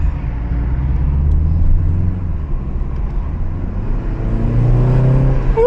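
Steady car engine and road rumble from inside a turbocharged BMW 330i G20 under acceleration, a continuous low drone with a rising whine near the end.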